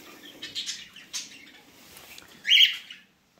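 Collared turtle doves kept in an aviary call in a few short, soft bursts, followed by one louder, sharper call near the end. There is no talk, and the sound falls to silence at the close.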